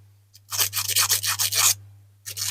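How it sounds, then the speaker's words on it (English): Harsh sandpaper is rubbed back and forth over a diecast Dinky Toys car to remove tarnish, giving close, rhythmic scratchy strokes in a quick run, a pause, then a couple more, over a faint steady hum. "It's quite a harsh sandpaper this for modelling"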